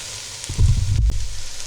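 Flour sizzling in a pot as the roux cooks for lobster bisque, a brief close burst of frying crackle and hiss.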